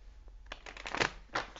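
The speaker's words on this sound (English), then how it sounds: "So one more shuffle" A deck of tarot cards is shuffled in one brief burst of riffling and flapping, close by, ending in a sharper snap of cards settling together.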